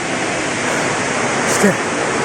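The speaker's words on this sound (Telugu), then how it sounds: "ఇక్కడ కూడా వాటర్ ఫాల్ ఉంది ఇది కొంచెం చిన్న వాటర్ ఫాల్ ఉంటుంది" Continuous broadband rush of a small waterfall at Gundala close by, steady and loud, with a short voice briefly rising above it.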